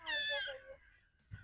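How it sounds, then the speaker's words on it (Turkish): A big, hungry cat meows clearly and close up, one drawn-out cry that fades away, followed by a soft low thump. "Karnı aç bir kedi o ya."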